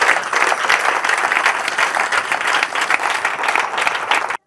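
A church congregation applauds with dense, loud, sustained clapping that carries on evenly for about four seconds and then stops abruptly.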